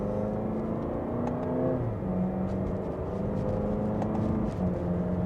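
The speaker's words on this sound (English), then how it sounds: "Just a mild acceleration, and we're up to speed." A 2025 Lexus IS300 sedan pulls away in sport mode in second gear, its engine note rising in a steady, continuous hum and whir heard close from inside the cabin, with no talking.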